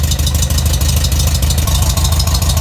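A Volkswagen car engine idles after a valve cover leak repair, a loud, steady, close-up rumble running evenly with no talk over it.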